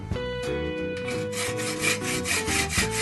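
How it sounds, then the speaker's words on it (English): A hacksaw cuts through an old, corroded pop-up sink drain, rasping in steady back-and-forth strokes up close for about three seconds, with nothing else heard over it. "cut the old pop-up drain above where the rod's coming out with your hacksaw"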